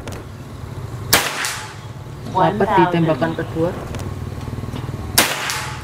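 Two sharp PCP airgun shots from a Bocap FX Crown during long-range accuracy testing, one early and one near the end, each a crisp crack with a short tail, while someone talks between them.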